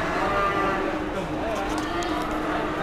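Cattle lowing at an outdoor cattle market in Pati, a drawn-out moo carried over a busy crowd murmur, with someone talking nearby.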